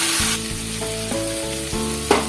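Vegetables sizzle steadily in hot oil in a pan as salt and turmeric go in, for a Bengali loté fish recipe, with faint stirring scrapes; sustained close frying hiss, with tonal hum lines running under it.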